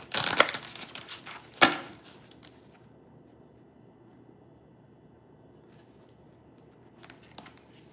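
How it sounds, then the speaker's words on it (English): Brisk riffling and crisp card slaps in the first two seconds, a sharp snap near the end of the burst, then near-silence with a faint rustle late on. "So I'm just going to shuffle the cards."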